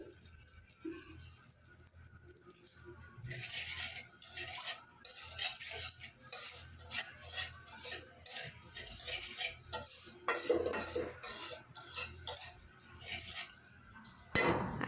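Fish is stirred in hot oil in a pan, with repeated scraping and clinking of a utensil against the metal in uneven bursts over a faint sizzle, fairly quiet and close.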